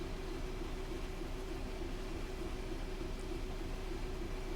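A Class 66 diesel locomotive running on the West Coast Main Line toward Milton Keynes in Train Sim World 5: a steady, droning engine hum with constant rail rumble, unbroken and even, with no talk.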